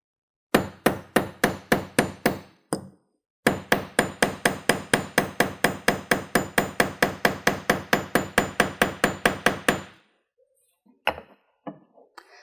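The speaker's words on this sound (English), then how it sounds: "And we're going to hammer this in place." A metal grommet is hammered in place on a hard granite or cement surface: two long runs of sharp, evenly spaced hammer strikes, close and loud, followed by a few scattered knocks.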